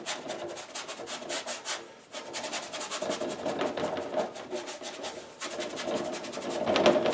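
A 1.5 inch varnish brush scrubs paint onto canvas in quick, scratchy, rhythmic strokes. The strokes come in close bursts, with a short pause near the two-second mark.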